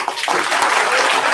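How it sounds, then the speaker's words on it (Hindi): Audience applause at a church gathering in Varanasi, a dense, steady patter of many hands clapping close by throughout the short burst. "जोरदार ताली।"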